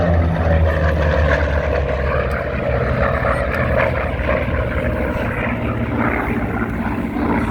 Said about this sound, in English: Coming in now, the Corsair, the Vought Corsair.